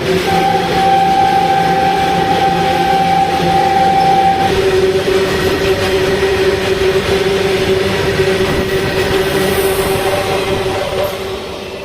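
A goods train rolls past at a slow railway crossing, a loud steady rumble with a sustained horn-like tone early on, fading slightly toward the end.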